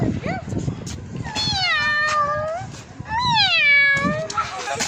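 A cat meows several times in drawn-out, rising and falling cries, close and clear, while children and an adult talk around it.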